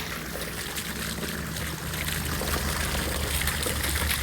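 Water trickling and dripping from a drip line at a recycling drain fed off rock bedding, a steady continuous splashing flow with low rumbling underneath, no talk.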